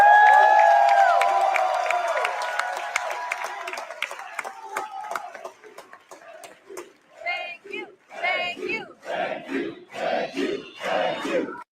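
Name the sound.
wrestling show crowd cheering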